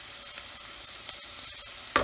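Green chilli and curry leaves frying in hot oil for a Chettinad-style prawn fry, a close, steady sizzle with small pops and a sharper crackle at the very end.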